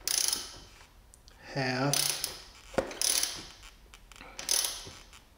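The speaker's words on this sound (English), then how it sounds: "what I can do to adjust this is turn in my preload 3 turns because it's 1 turn per millimeter" Ohlins preload adjuster being turned on an Aprilia RSV4 1100 Factory's suspension, a few bursts of ratcheting mechanical clicks and grinding with a short spoken word between them.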